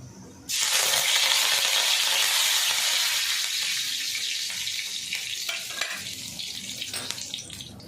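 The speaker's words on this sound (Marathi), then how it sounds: "आता तेल गरम झालं तेच तेल आहे आपण जे वा वाटाणे भाजं होतो ना तेच तेल आहे आता याच्यामध्ये थोडा कढीपत्ता टाकूया" Curry leaves dropped into hot oil that was already used for roasting fresh green peas burst into a loud, steady sizzle that slowly settles, with faint stirring and pan clinks near the end.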